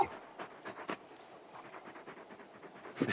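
Torgal, a large dog in the video game Final Fantasy XVI, panting in quick, soft, rhythmic breaths, close and fairly quiet, with no talk over it.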